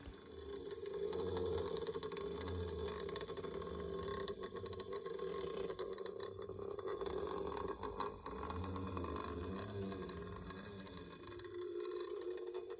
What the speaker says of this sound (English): you can even get this model to creep along. Once the track and the wheels are clean, you know, you can see it just runs nice and smoothly.